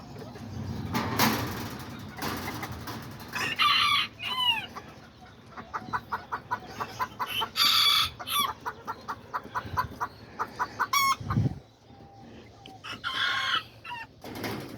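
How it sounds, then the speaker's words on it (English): Silkie chickens cluck in quick, rapid series nearby while a Silkie rooster crows in short bursts, amid outdoor farmyard noise and other fowl. "that's the little silky rooster"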